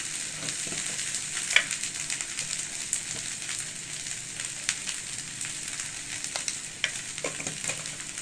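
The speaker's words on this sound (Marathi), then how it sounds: "आता बटाट टाकून आपण थोडं मिक्स करून घेतलं" Sabudana khichdi with potatoes fries in a pan, a steady close sizzle with occasional scraping stirs and light clinks of the spoon against the pan.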